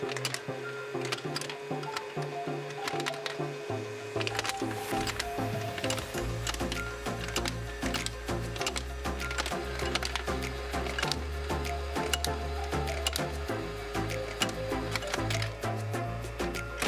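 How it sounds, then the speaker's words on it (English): A LEGO pinball machine motor spinning a small 8-tooth gear against a large 40-tooth gear to turn a rotating paddle, giving a continuous mechanical whir with rapid plastic clicks and rattles throughout. "A motor quickly rotates a small 8-tooth gear in contact with a large 40-tooth gear."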